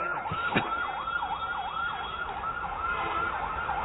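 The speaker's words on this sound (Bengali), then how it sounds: "ডানে কি অ্যাম্বুলেন্স যাচ্ছে" A wailing ambulance siren passes by, its tone rising and falling in a steady cycle over constant street noise, moderately loud and with no voices over it.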